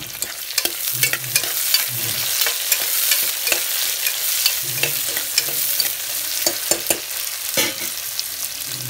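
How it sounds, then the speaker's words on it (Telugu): Onions fry in a pan to brown for a rice biryani, with a continuous sizzle and repeated scraping stirs and taps at an uneven rhythm. The sound is close and fairly loud, and no one talks. "సో మనకి ఆనియన్స్ వచ్చేసి బ్రౌన్ కలర్లో ఫ్రై అవ్వాలి."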